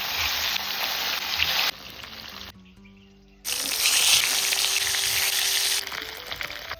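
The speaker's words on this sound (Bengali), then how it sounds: "এবার কালবাউস মাছটা ভেজে নেব।" Kalbaush fish fries in mustard oil with a loud, crackling sizzle. The sizzle stops briefly for about a second in the middle, then returns fuller and keeps spitting steadily to the end.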